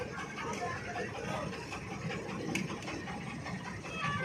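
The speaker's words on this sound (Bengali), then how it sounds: "ট্রেন যাচ্ছে কিন্তু স্লো যাচ্ছে।" A train rolls past slowly and close by, giving a steady, dense mechanical rumble and clatter that holds at an even level throughout, with no clear voices.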